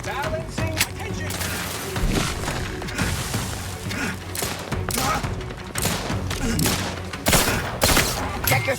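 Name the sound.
gunfire in video game The Outer Worlds 2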